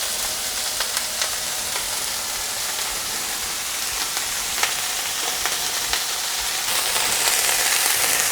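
Fishcakes sizzle and crackle steadily in a hot frying pan, a loud, dense hiss with small pops as they are flipped, and no voices over it.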